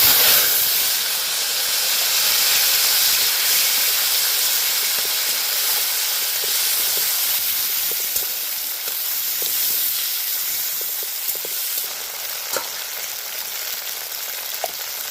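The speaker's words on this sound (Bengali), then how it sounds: "এখানে আমি দুটো টমেটো কুচি করে রেখেছি দিয়ে দেবো" Chopped tomatoes frying in a pan for a paratha curry, a steady loud hiss and sizzle that runs continuously, with small crackles and pops breaking through toward the end.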